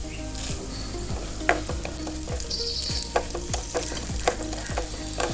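Chana dal and urad dal fry in a spoonful of oil in a pan, a soft continuous sizzle broken by repeated scraping stirs at a steady rhythm, close and fairly quiet, with no voices.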